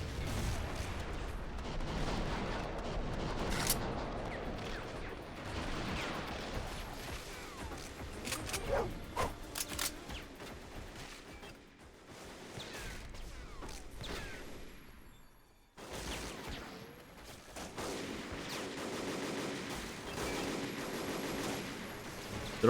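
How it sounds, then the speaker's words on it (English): Gunfire and grenade launcher blasts in the video game Dead to Rights: dense bursts of shots and booming explosions, with a brief gap of near silence before the firing resumes. "Oh no, grenade launcher, man."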